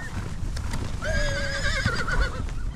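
A horse on a western ranch horse drive lets out one long, loud whinny that rises and wavers for over a second, close by, with faint hoof and ambient noise around it.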